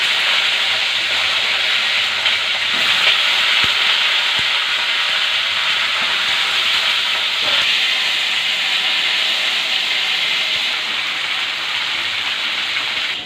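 Chandramukhi potatoes with green chillies and black cumin fry in hot oil in a pan, a loud, steady close sizzle and hiss running throughout with a few faint knocks of utensils.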